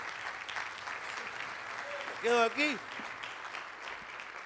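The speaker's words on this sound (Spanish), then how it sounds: "Denle un aplauso al Rey bendito" Congregation applause during a church service, a steady wash of clapping that runs the whole time, with a short spoken phrase rising over it midway.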